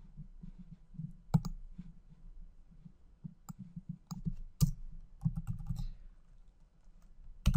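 Computer keyboard keys clicking in irregular bursts while Python code is typed, close and fairly quiet, with several sharper louder keystrokes standing out and no talking.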